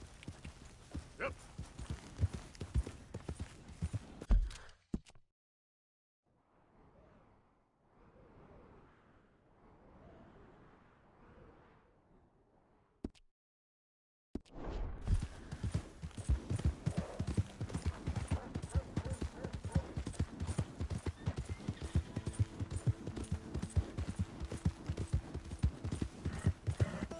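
Horse hooves clip-clop steadily in a PS4 video game, loud and continuous at the start, dropping out for a quieter stretch, then returning strongly with rhythmic footfalls.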